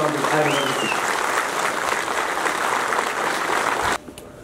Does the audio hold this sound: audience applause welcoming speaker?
yes